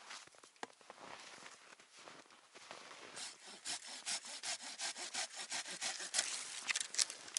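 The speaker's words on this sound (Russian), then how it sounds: "Пилим сырую черемуху." A Silky hand saw works through green bird cherry wood outdoors, its steady back-and-forth strokes growing louder and more rhythmic as the cut deepens, with raspy bursts of sawing close to the microphone.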